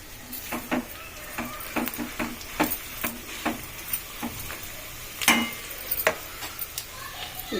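A spoon scrapes and clinks around a pan as turmeric is mixed into hot oil, with irregular close taps and strokes over a soft sizzle.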